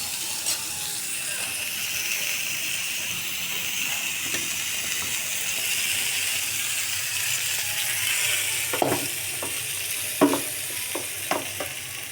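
Potatoes frying in a pan on a gas stove for a rohu fish curry give off a steady, close sizzle with bubbling oil, and a few sharp clinks and scrapes of stirring come near the end.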